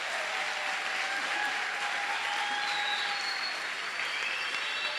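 Dense, sustained applause from a seminar audience, a continuous wash of many hands clapping at steady loudness, with faint tonal sounds underneath.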